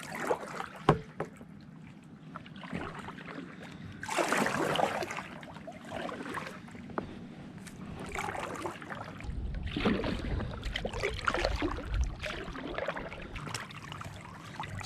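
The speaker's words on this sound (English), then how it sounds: "on the water, let's get paddling" Kayak paddle strokes splash and swish through water in a loose rhythm, with soft trickling and dripping between the strokes, close by, from a drop-stitch inflatable kayak.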